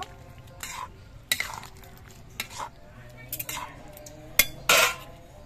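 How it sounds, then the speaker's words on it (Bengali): A spoon stirs ground garam masala into broccoli curry in a pan, with clattering scrapes and clinks of metal on metal in short separate bursts over a faint sizzle. "গরম মশলা গুঁড়ো দিয়ে নেড়ে চেড়ে মিশিয়ে নেব।"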